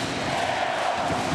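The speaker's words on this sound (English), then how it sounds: "Oh, and listen to the crowd chant his name." A volleyball arena crowd chants Wilfredo Leon's name in a dense, steady roar at the 2018 Champions League final between Cucine Lube Civitanova and Zenit Kazan.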